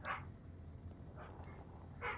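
Two faint barks from a dog somewhere in the room, one at the start and one at the end with a quieter yip between, over a low steady hum of game noise.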